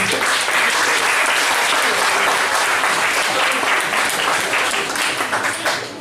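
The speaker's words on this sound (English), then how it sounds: "Give them a big round of applause, everybody." Audience at a stage hypnotist show at Birmingham University breaks into loud, sustained applause, a dense wash of clapping that fills the whole stretch without letting up.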